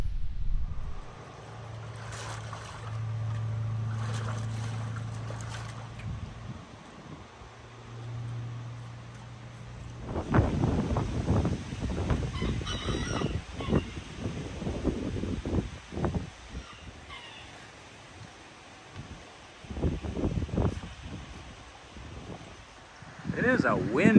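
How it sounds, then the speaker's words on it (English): Wind gusts across open bison pasture, a steady low rumble and rushing buffeting the microphone in the opening seconds, then gusty rustling with intermittent sharper noises and fluctuating loudness through the rest. "It is a windy day today."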